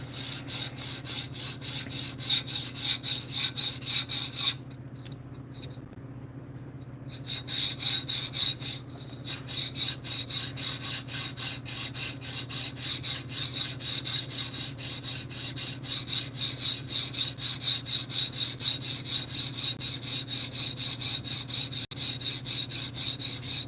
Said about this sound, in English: This MSI is pretty good to pretty easy to sharpen because you don't have thumb studs